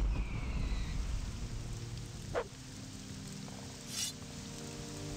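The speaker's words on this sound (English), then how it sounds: "why is it raining again?" Steady rain in the video game The Elder Scrolls III: Morrowind hisses in a soft, continuous wash, with a couple of brief higher crackles over it.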